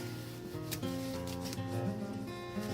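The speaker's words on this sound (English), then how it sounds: "And again, burnish with your bone folder." A bone folder rubs paper flat while a mini album is assembled, producing a soft continuous scraping and rubbing under tonal background sound, with no talking.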